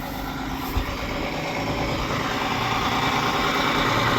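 A 1995 International cab-over semi truck with an 11.1L Detroit diesel, a 10-speed and a hard-starting condition idles in a steady, loud, rumbling drone, close by, with one brief knock near the start and no talking.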